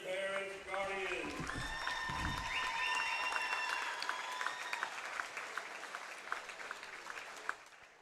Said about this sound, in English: Can we get one last applause for all of our seniors and their parents and guardians?